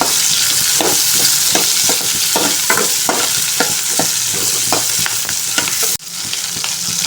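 Food sautéing in a pan until it turns brownish, giving a constant bright sizzle with regular spatula strokes scraping the pan, loud and close, dropping briefly near the end.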